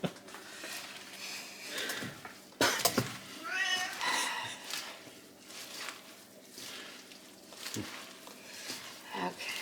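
Pet cat meowing in a home kitchen while kale chips are being prepared, several short mews and one drawn-out cry mixed with a woman's speech and light handling noises.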